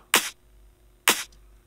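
Two crisp, snappy electronic claps, evenly spaced about a second apart, each a short bright burst with a quick decay over a low thump.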